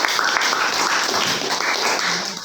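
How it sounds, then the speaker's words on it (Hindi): A ninth-grade class breaks into dense, continuous applause that fills the room, steady and loud from start to finish with no voices rising above it. "तालियां।"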